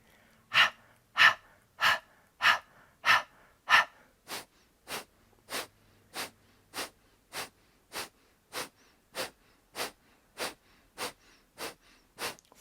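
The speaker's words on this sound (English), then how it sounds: "Keep the breath of fire going" Breath of Fire, the rapid Kundalini yoga breathing pumped through the nose, heard as about twenty sharp, evenly spaced exhalations, close and clear, the first several stronger and the rest softer but keeping a steady rhythm.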